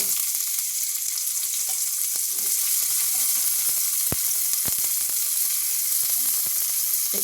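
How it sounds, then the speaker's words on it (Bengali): Boiled green peas sizzle steadily in hot ghee in a wok, a dense, close frying hiss with occasional soft clicks and taps, no voices. "এই কড়াইশুটিগুলো এবার এই ঘিয়ের মধ্যে দিয়ে দিচ্ছি"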